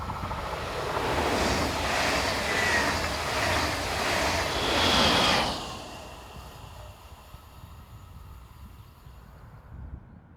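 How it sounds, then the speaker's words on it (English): A Class 146 electric locomotive at the rear of a passenger train bound for Dresden, rounding a curve with a steady rolling roar that fades into distant quiet after about six seconds, with no talk. "A bit further around the curve, an unidentified Class 146 heads east on the rear of this train bound for Dresden."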